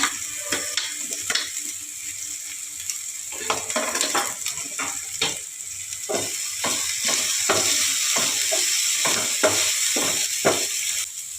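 Chopped tomatoes frying in a pan for Bengali chicken ghugni, with a steady background sizzle broken by repeated scraping and clinking strokes of a spatula stirring in a regular rhythm.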